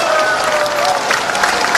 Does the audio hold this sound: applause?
yes